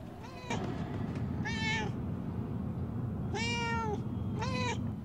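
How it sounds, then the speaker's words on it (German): A cat in the video game Murdered: Soul Suspect meows three times, each a clear drawn-out call, heard close over a low steady game ambience. "Kriegen wir die Katze irgendwie raus?"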